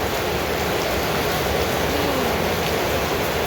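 Steady rain pours down in a dense, continuous hiss of falling drops, close and even throughout with no voices.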